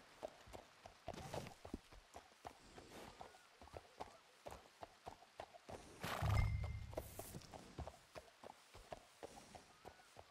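Horse hooves clip-clop in a steady run of sharp, close knocks through a ranch role-play video game, with a loud neigh rising midway and a few more whinny-like calls around it.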